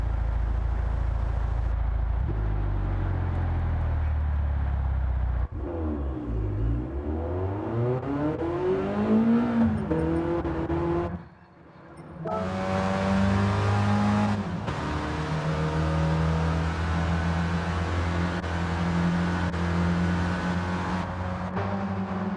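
Race car engines in Gran Turismo 7 rev and scream, pitch sweeping up through gear changes, with a brief drop before the roar returns steady and loud.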